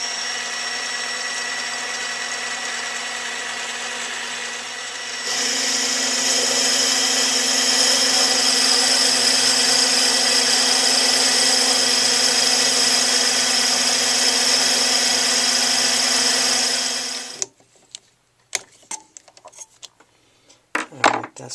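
Metal lathe turning a shaft down to about 3/8 inch diameter for a belt sander repair part, a steady loud machining whir that rises in level partway through, then stops, leaving scattered clicks and knocks.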